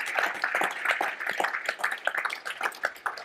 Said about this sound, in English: So a round of applause for fastest-selling book